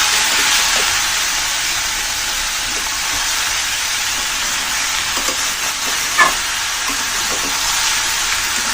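Bottle gourd seasoned with turmeric and salt is stirred in a hot pan, a steady broad sizzle running throughout with a few soft scrapes of the spoon, close and even, no voices.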